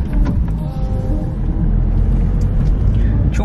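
A Ford van is driving on the road, with a continuous loud low rumble of engine and road noise and faint rattles and hiss inside the cabin.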